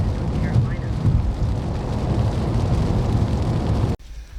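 Steady heavy rain roar from a torrential downpour with low rumbling road noise while driving in North Carolina, continuous and loud, cutting off abruptly near the end.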